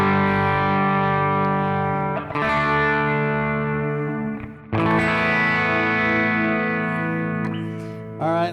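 Electric guitar played through a Wampler Brent Mason ReWired overdrive and distortion pedal set for extra crunch, sustained distorted chords ringing out alone with a few brief breaks between strums.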